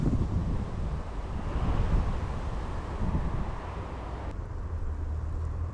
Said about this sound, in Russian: ветер просто аж уши закладывает